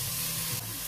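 Leek sizzling as it is sautéed in a pan, a steady close hiss of frying with faint stirring bumps, loud and alone.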